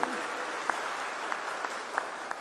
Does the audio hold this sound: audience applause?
yes